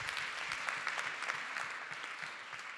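Steady audience applause at a live art and health contest event, dense clapping from a sizable crowd that holds evenly throughout without pause.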